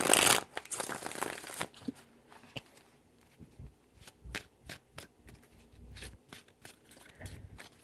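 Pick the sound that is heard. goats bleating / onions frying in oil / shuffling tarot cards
shuffling tarot cards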